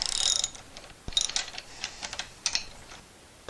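Ratchet working a rear shock absorber nut loose on a Honda Civic, a burst of quick metallic clicks followed by several separate short ticking bursts, close and fairly faint, with no talking.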